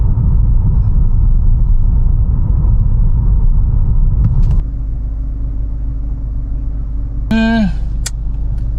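A car drives with a loud, steady low rumble of engine and road noise inside the cabin; the rumble drops slightly partway through, with brief clicks and a short tonal beep near the end.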